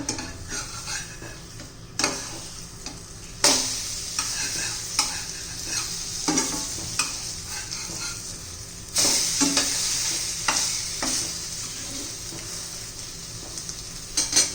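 Egg bread patties sizzling as they fry on both sides in a pan, with steady crackling broken by repeated scraping and stirring strokes of a utensil against the pan and occasional clinks of cookware; no talking.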